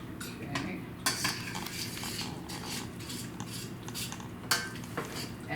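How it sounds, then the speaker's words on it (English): Utensils clink and scrape against a pot while sharp cheddar cheese is stirred until it melts, with a steady run of close metallic taps and scrapes. "I'm going to stir that until it's melted"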